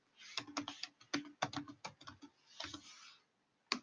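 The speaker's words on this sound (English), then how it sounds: "Let me type it in better." Quick irregular keystrokes on a computer keyboard as fruit flavor names are entered, close and clear in bursts with brief pauses and no talking.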